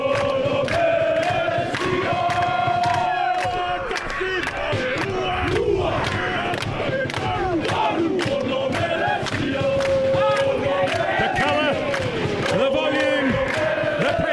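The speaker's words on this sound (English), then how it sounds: "The crowd is in spirited voice." A spirited crowd at a traditional schoolboy rugby match between St Patrick's College Wellington and Wellington College roars and chants in unison, with rhythmic shouts and sharp repeated claps or stamps punctuating the loud, continuous crowd noise.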